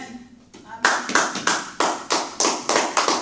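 A church congregation claps in acclaim of Jesus, a run of sharp, evenly spaced group claps building into a steady rhythm after a brief stretch of preaching voice.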